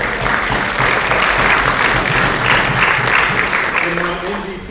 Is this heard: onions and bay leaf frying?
no